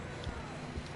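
Horse hooves clip-clopping in Red Dead Redemption 2, a quick run of soft, muffled hoofbeats under a steady game ambience, faint and brief with no clear voice.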